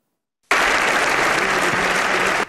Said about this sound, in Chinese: 意大利国会响起掌声，持续超过20秒，致敬乌克兰总统泽伦斯基